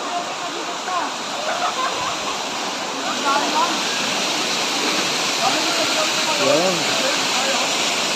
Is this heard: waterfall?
yes